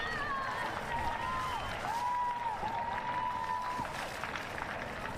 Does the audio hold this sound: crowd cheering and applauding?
yes